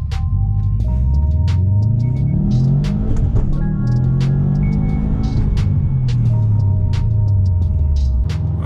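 A Subaru WRX STI with a COBB Stage 1 tune accelerates hard in sport mode, its engine rumbling loud and close as revs climb, drop at shifts and climb again through several gears, with no talk.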